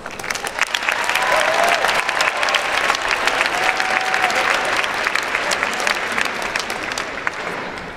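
A large crowd at a university graduation diploma ceremony breaks into loud, sustained applause, a dense, even roar of clapping that swells quickly and holds steady before easing slightly at the end.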